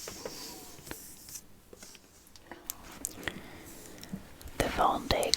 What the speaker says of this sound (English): So relax, listen to the paper sounds.